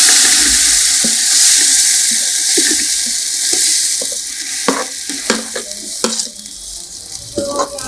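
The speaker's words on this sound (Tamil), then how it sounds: "இப்போ இந்த மசாலா கலக்குவோம்" Masala spices frying and being stirred in a pan while making a soup, with a steady close sizzle and repeated scraping, clinking stirs growing busier toward the end.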